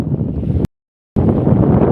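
Strong wind rushes loudly against the microphone on Osam hill near Patan Vav in two blustery stretches separated by a moment of silence.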